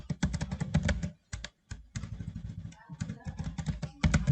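Code being typed on a computer keyboard while building an HTML and CSS college website: rapid, close key clacks in uneven bursts with brief pauses, no talking.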